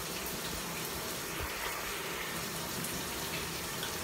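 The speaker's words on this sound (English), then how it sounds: "I'm about to get in the shower." Shower water runs in a bathroom, a steady loud hiss of spraying and splashing water that holds constant throughout, with no voices.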